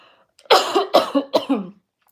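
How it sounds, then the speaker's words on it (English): Three harsh, close coughs in quick succession, each a sharp burst tapering off, with silence before and after. "I need to cough, I'm sorry."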